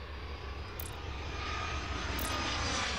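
Airplane engine from the airport-management video game Airport Madness World Edition, a steady whooshing drone that swells slightly, heard alone with no talking.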